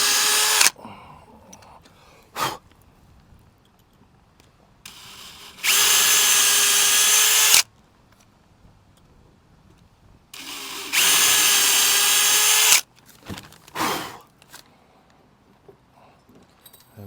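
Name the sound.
power drill drilling 3.5 mm fixing holes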